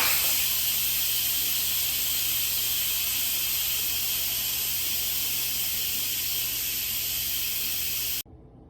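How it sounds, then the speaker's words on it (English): An Instant Pot pressure cooker vents steam on quick release after cooking mushrooms, a loud continuous hiss that holds steady for about eight seconds and then cuts off abruptly. "so let's quick release the steam."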